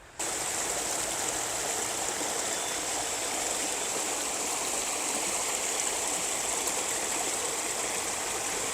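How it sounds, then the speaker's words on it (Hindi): River water rushes fast through a narrow rocky channel on the Khadeji river near Karachi, making a steady, dense hiss and roar that stays close and loud throughout with no voices. "तो इस जानिब भी पानी तेज़ी के साथ बह रहा है"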